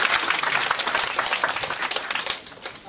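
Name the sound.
audience applause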